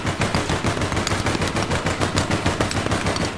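A Tech 5 rifle in APB Reloaded fires full auto, a rapid, steady stream of loud evenly spaced shots throughout.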